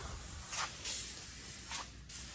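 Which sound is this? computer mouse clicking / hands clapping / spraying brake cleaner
spraying brake cleaner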